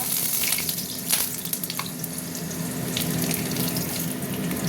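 Sugar, cinnamon, cardamom and cloves hitting hot cooking oil for a chicken curry, giving a loud, close, continuous sizzle and hiss with a few sharp pops and no talking.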